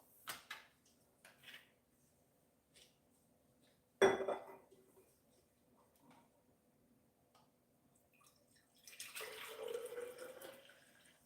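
Hot water is poured for coffee in a kitchen: a few quiet clinks and a sharp knock, then a soft, steady pour for a couple of seconds near the end.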